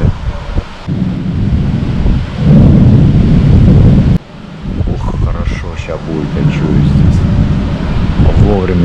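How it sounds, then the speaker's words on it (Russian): Heavy thunder rolls through an approaching storm, a loud, deep rumble that swells for several seconds amid gusty wind noise, followed by further rumbling with a voice faintly audible toward the end. "Там такой раскат был."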